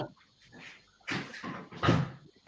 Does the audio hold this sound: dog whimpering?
yes